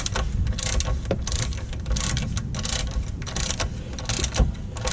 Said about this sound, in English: The reason I'm using the ratchet right now is to kind of get it started